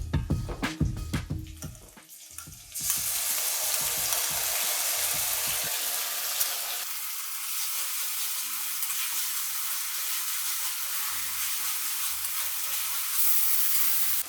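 Ground spice paste hits hot oil with fried onions in a pan for Bengali katla fish curry, opening with clattering stirs before a loud, steady sizzle takes over and hisses on for several seconds.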